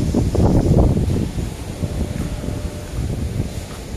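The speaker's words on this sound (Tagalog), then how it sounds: "Lakas ng hangin." Strong gusty wind buffeting the microphone, a heavy roar that is loudest at first then settles into a steady rumble.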